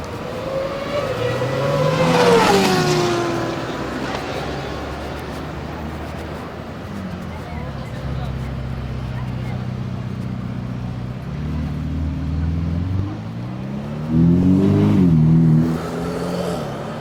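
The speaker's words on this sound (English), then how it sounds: "Little Ferrari going by, as you do." A Ferrari's engine revs and sweeps past on the Monaco street circuit, rising then fading, with a second burst of engine noise toward the end over steady background rumble.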